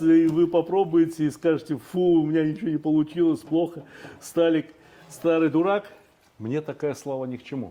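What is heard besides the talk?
No everyday noise stands out behind the speech.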